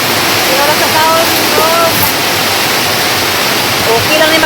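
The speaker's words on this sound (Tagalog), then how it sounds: "na kusog ang ulan, nagbundak ng ulan guys." Heavy rain pours down hard in a rural Philippine setting, a loud, dense, unbroken roar of water that fills the whole stretch without letup.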